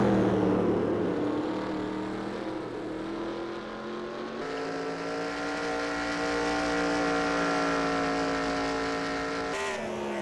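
Steady engine whine of the original Papyrus Cup car in the NASCAR Racing 2003 sim, holding a high, even pitch with small shifts as it runs at speed, with no voices.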